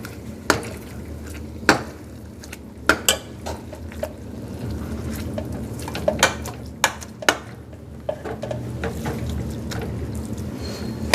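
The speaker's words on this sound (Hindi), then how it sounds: "तो इस पॉइंट पर अपने हलवे को एक साइड पे लगाना है ऐसे" A spatula scraping and stirring makhandi halwa in a kadai as ghee separates, heard as repeated metallic scrapes and knocks over a steady sizzling background, close and fairly loud, with no talking.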